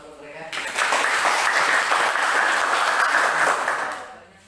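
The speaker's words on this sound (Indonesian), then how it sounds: "Mari kita berikan aplaus untuk mereka." A classroom group finishing a presentation gets a burst of applause, many hands clapping loudly and steadily for a few seconds before tapering off, with voices mixed in.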